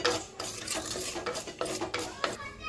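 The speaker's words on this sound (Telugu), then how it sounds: "నువ్వులు ఇలా ఫ్రై చేసుకోవాలి." Sesame seeds frying and being stirred in a pan: a utensil scrapes and rattles against the metal in quick irregular strokes over a faint sizzle, close and fairly quiet.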